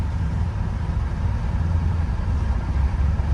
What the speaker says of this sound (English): We got this car in track mode right now, so it has the exhaust open